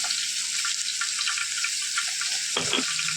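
Cumin seeds sizzling in hot oil in a pan for a spinach stir-fry, a steady bright frying hiss that runs throughout, with a brief louder crackle and bubbling burst near the end.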